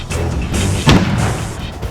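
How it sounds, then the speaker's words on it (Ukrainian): A single sharp, loud gunshot-like bang near the middle, over steady background noise. "Постріл."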